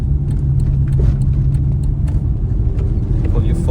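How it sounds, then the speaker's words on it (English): A Fiat Seicento Sporting accelerates after a crank sensor repair, giving a steady, loud, close engine rumble heard from inside the car. "Put your foot down now and it accelerates"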